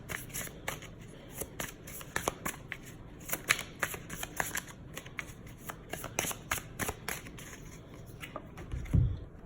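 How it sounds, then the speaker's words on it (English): A deck of tarot cards is shuffled and cards pulled out, close-up crisp riffling and flicking in quick irregular bursts throughout, ending with a soft thump. "I'm gonna pull one more card from this deck for her."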